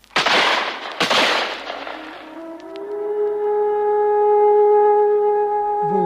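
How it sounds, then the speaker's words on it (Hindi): Two sharp, loud gunfire blasts from a volley sound effect, each decaying into echoing noise, then fading into a sustained tonal wail like a siren that carries on alone to the end. "कप्तान के मरते ही वृद्ध पर गोलियों की बौछार हुई।"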